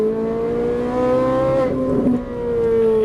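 A Ferrari 458 Italia V8 on a track, accelerating with a loud, close, harmonic engine note that holds steady, rises briefly, dips, then climbs again, with no voices over it.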